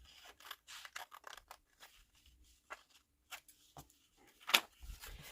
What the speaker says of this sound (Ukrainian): Одразу я вирізаю.